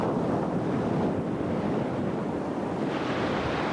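Strong north wind tearing across a rough sea, with a continuous heavy rush of wind and breaking surf, loud and close, swelling slightly near the end.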